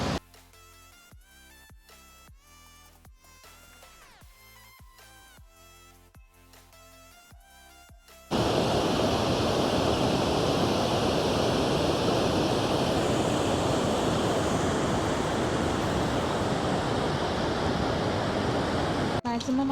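Loud, steady broadband roar of river water rushing at Pulteney Bridge in Bath in the rain, bursting in after a stretch of quieter music and then holding continuous and close for the rest.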